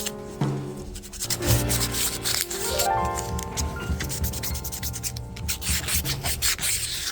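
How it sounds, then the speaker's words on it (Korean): Steady scratchy rubbing of sandpaper against a hard 3D-printed resin part, smoothing support marks, continuous strokes at close range with some tonal ringing mixed in. "서포터 자국들이 지저분한데요. 사포로 갈아냅니다."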